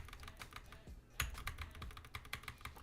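Fingers tapping on a computer keyboard, including the backspace key, in a quick irregular burst of soft, close clicks at low volume with no voice.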